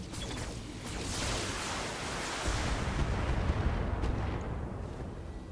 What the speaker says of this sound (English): and spray them with an alpha strike